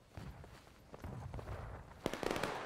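An artillery shell explodes on the Piper Farm battlefield in War of Rights, a Civil War shooter game: scattered crackling pops and thumps build to a sharp, loud blast near the end, trailed by a rattling tail.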